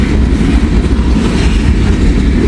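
Heavy freight train cars, including gondolas and boxcars, rolling steadily past up close with a loud, continuous low rumble and faint clickety-clack of wheels on rail.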